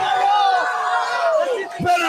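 A crowd of over 500 at a UFC 280 watch party cheers loudly, with drawn-out yells and whoops rising and falling over a continuous roar.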